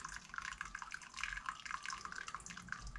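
Hot, just-boiled water pours over a seized end cap on a HOPE bicycle hub, making a steady close splashing and trickling with scattered drips throughout.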